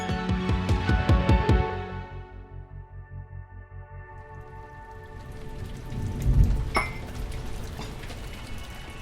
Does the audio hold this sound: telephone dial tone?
no